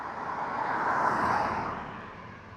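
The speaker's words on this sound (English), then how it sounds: "the noise you're hearing from these cars driving by," A car passing outside a house on a street in Longmont, Colorado, a soft broadband whoosh that swells and fades over a couple of seconds, heard from a middle distance with no voices.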